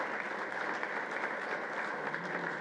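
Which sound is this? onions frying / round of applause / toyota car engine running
round of applause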